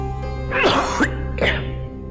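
Two harsh coughs, the first a longer hacking burst and the second shorter, over a steady low hum.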